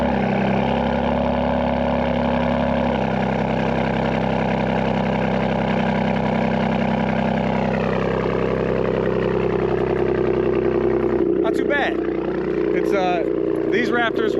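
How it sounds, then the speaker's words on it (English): Ford Raptor R truck with a Borla Attack exhaust on a cold start, running at a steady rumbling idle up close for most of the stretch, with a few brief throttle pops near the end. "This is a Borla Attack exhaust, and that's the sound you get out of it."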